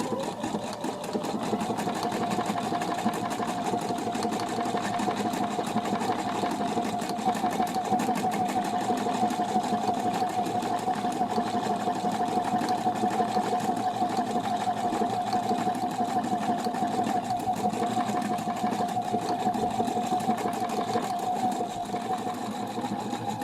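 A Pfaff Quilt Expression 720 sewing machine stitching a wide decorative pattern, its needle sounding as a steady, fast, even mechanical whir and tick that carries on without a break from start to finish.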